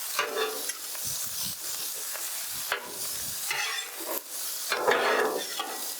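Sausage and pork fried rice sizzles on a Blackstone flattop griddle, a steady hissing fry broken by repeated scraping and stirring strokes of a metal spatula, close and fairly loud with no talking.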